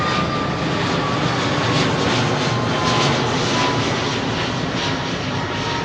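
A jet airliner with CFM LEAP engines taking off at London Heathrow, a loud steady roar filling the air without pause, the engine tone holding broad and powerful throughout.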